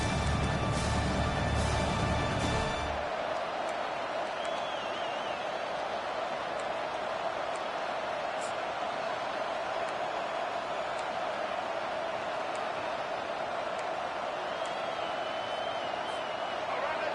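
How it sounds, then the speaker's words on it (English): Stadium crowd noise from College Football 25 on a third-down defensive stand, a steady, moderately loud roar of cheering that follows a brief louder burst at the start and carries on evenly. "Decibels rising as the crowd gets behind this defense on third down."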